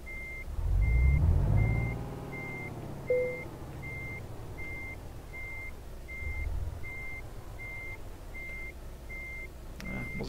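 A truck reversing to park in the Euro Truck Simulator 2 game, with a steady evenly spaced reversing beep over a low engine rumble that swells and fades, and a short air-brake hiss.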